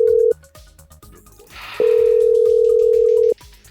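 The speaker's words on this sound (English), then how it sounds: "It's ringing." A phone ringing tone on an outgoing call: two long, loud, steady purrs separated by a pause, the first one clipped at the start, heard close and alone.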